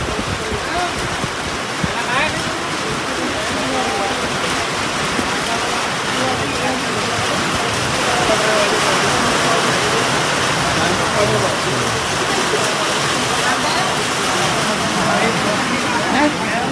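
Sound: heavy rain falling

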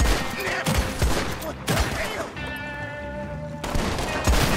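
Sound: gunfire in the video game Red Dead

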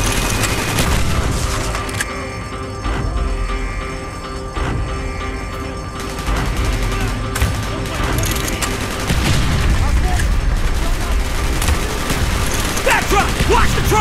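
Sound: gunfire in video game Call of Duty Black Ops

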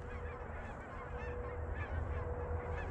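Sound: geese honking during goose hunt

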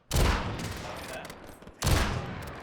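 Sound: gunfire in video game Call of Duty Warzone

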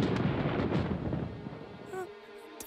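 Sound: thunder

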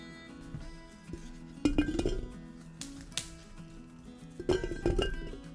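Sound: garlic cloves put into a sterilized glass jar

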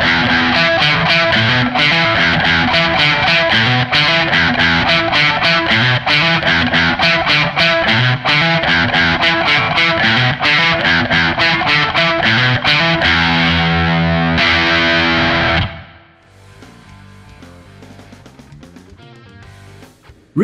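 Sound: distorted electric guitar riff played with short notes

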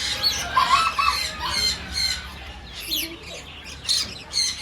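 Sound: macaw squawking

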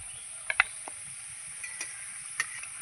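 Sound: frying snacks in a pan

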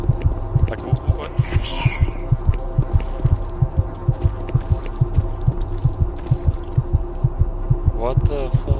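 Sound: heartbeat sound in the video game DOOM 3

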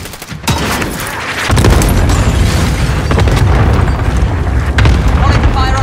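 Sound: cluster strike explosions in video game Call of Duty Warzone

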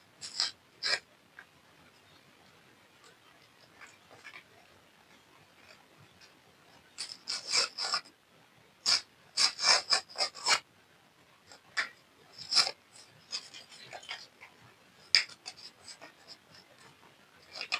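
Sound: opening a paper packet

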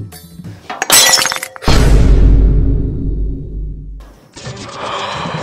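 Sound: tea cup or glass breaking and shattering

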